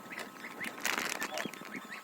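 Ducklings and young goslings peep and call in quick, overlapping bursts in a village poultry yard, close and lively, with faint speech mixed in.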